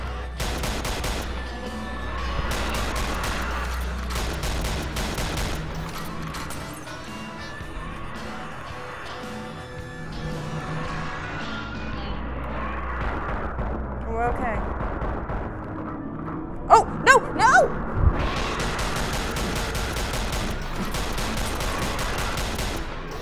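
Gunfire with unlimited ammo rattles through the Drunk or Dead VR game on HTC Vive, a dense, continuous barrage of shots layered over background game audio, with a few sharper cracks standing out near the end.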